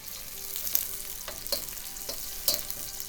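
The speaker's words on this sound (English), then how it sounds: "Then I'm gonna put my onions in." Chopped onions fry in a hot pan for an Asian-style noodle stir fry, giving a continuous moderate sizzle broken by several brief scraping stirs at roughly regular intervals, with no talking.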